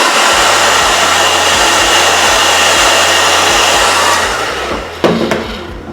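Hair dryer blows loud and steady on the lace area of a red-highlighted glueless bob wig, a continuous rushing roar that cuts off near the end with a couple of sharp knocks.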